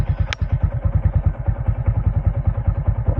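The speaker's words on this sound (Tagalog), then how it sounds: "Yan, pinapainit na ni Dodong yung motor" A motorcycle engine idles as it warms up, thumping in a fast, even rhythm close by, with a brief metallic clank near the start and no talking.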